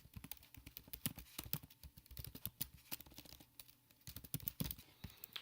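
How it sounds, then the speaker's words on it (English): Quick bursts of keystrokes on a computer keyboard entering a web address, irregular clicks in short clusters with brief pauses, close and fairly quiet, no talking. "Click on hyperlink, and then just simply type in the URL to your homepage."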